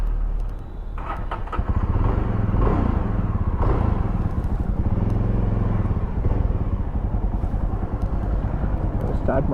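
Close and loud, a Jawa Perak motorcycle engine runs with a steady, throbbing idle for several seconds while voices chatter over the mechanical rumble.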